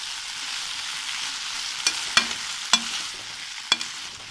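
Gobhi manchurian stirred in a pan over a steady frying hiss, with four or five sharp spatula scrapes and knocks in the second half, no voices.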